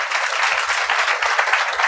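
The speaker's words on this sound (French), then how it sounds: "Applaudissez-le." Audience clapping to welcome a guest onto a talk show stage, a steady, fairly close burst of applause lasting under two seconds with no break.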